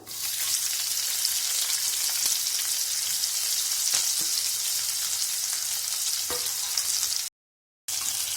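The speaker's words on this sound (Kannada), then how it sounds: "ಇದು ಫುಲ್ ಬ್ರೌನ್ ಆಗೋ ತನಕ ಫ್ರೈ ಮಾಡಿ" Chopped onion fries in hot oil with mustard seeds and cumin, giving a steady, close sizzle that crackles throughout with a few faint stirring clicks before it cuts out briefly near the end.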